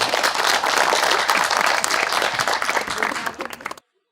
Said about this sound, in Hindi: माशाल्लाह, तालियां जी सबसे पहले